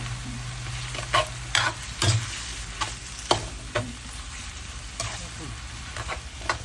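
Glass noodles with bamboo shoots stir-fried in a pan, a steady sizzle broken by sharp scraping clacks of the spatula every second or so, close and fairly loud.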